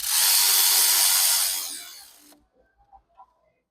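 A power driver with a T45 bit runs bolts in on a Ford 6.7 Powerstroke diesel engine, one loud continuous whirring burst for about two seconds that cuts off abruptly, followed by a few faint clicks and taps.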